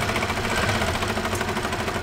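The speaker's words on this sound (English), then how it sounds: "Sewing machine has a top thread and a bobbin thread." A home sewing machine running steadily with its motor hum and fast needle rhythm, stitching hand-spun yarn couched onto fabric with a presser foot, close and continuous throughout with no talking.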